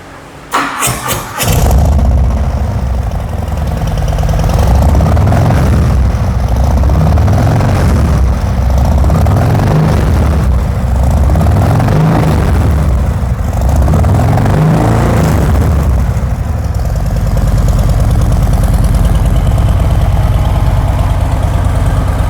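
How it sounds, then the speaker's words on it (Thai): A 2021 Harley-Davidson Sport Glide 107 with low mileage cranks briefly and fires up, then settles into a loud, close, loping V-twin idle with several gentle rises in revs. "ขอฟังเสียงเครื่องยนต์หน่อยครับ"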